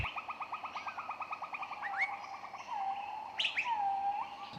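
A myna bird calls alone and fairly close: a rapid run of repeated clicking notes, then whistled swoops and sharp chirps, all set against quiet background noise.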